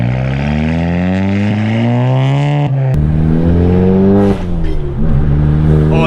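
Straight-piped Stage 2 MK7 Volkswagen Golf GTI exhaust revving loud and close, its tone climbing and dropping through several throttle blips with a sharp crackle midway, heard alone.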